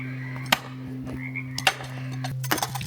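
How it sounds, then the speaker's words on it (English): Frogs croak in sharp, irregular bursts outdoors on a hillside as the sun returns, sounding moderately near over a steady low hum. "Sun's coming back, frogs are going off."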